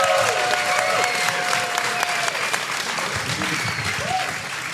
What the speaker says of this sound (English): Please give Michael a round of applause.